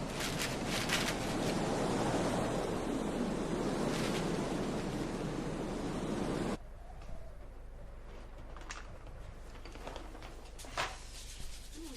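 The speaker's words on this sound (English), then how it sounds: "It's only the wind." Wind blowing outdoors on a windy day: a loud, steady broadband rush buffeting the microphone for several seconds, then dropping abruptly to a softer, continuous background wind.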